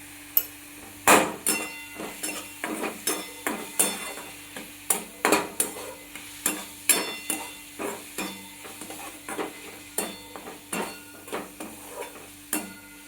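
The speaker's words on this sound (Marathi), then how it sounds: "आपला कांदा भाजत आहे।" Onion frying in a pan while being stirred, with soft sizzling under a steady series of close scraping and clinking strokes of a spoon against the pan.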